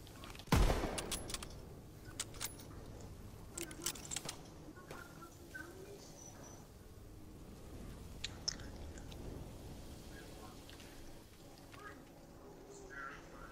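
Gunfire in the Call of Duty WWII video game opens with one loud close shot, followed by scattered sharp cracks and faint distant bursts over a low, steady game background.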